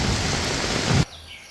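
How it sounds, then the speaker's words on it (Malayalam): Heavy rain pouring steadily in Kerala, a loud, dense, uniform hiss that cuts off abruptly after about a second, leaving near silence. "മഴ ഒരു ഇടതടവില്ലാതെ പെയ്തുകൊണ്ടിരിക്കുകയായിരുന്നു"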